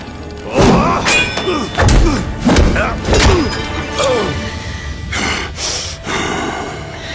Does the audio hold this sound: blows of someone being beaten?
yes